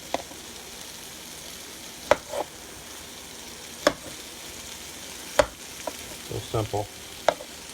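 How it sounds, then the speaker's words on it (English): Vegetables fry in butter in a pan, with a continuous gentle sizzle broken by sharp clicks and scrapes of stirring, and a voice speaks briefly over the cooking. "I put a little salt and pepper and the butter on them and just let them cook in here in the pan a couple minutes."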